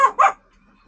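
A small child imitates a dog with two quick, loud, close yappy barks, the second drawn out slightly like a growl, then silence.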